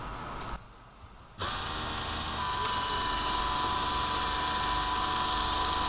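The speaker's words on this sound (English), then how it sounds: "And you will see the motor running, and there it goes." A small fischertechnik hydraulics model's electric motor starts up after a brief quiet moment, then runs with a steady, high-pitched whine that holds close and loud to the end.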